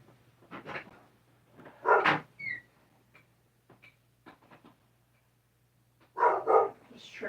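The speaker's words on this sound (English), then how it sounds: "my dog is tripping out" A dog barks indoors in scattered bursts, a pair of barks, a louder one, then a few softer woofs and another pair near the end, over a steady low hum.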